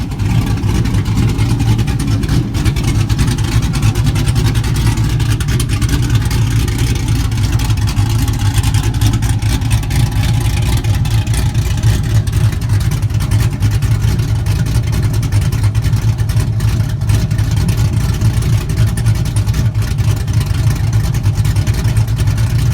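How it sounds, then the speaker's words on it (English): A Z71 truck engine idles roughly with a choppy, lumpy cam rhythm, a loud, steady low rumble held close throughout with no one speaking. "Just straight up gnarly sounding idle."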